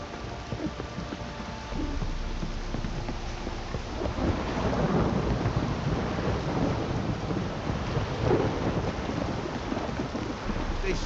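Steady rain pours in a swamp in The Witcher 3, with deep rolls of thunder rumbling through; the downpour thickens after the first couple of seconds and stays loud and continuous throughout.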